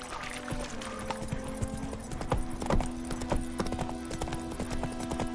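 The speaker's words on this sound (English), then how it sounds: "Run, Roach" Galloping horse hooves in the video game The Witcher 3, a rapid, steady clip-clop beat up close over a low background hum, continuing throughout with no speech.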